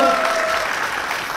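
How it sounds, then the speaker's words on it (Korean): A short burst of dense applause and crowd noise at a youth basketball game, with a faint voice mixed in underneath. "박수 부탁드립니다"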